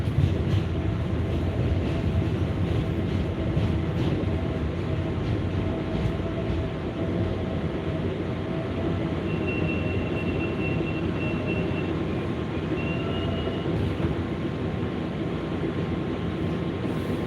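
A New York 7 local subway train heading for Flushing Main Street rolls along with a steady low rumble and rattle, a thin high squeal rising briefly partway through.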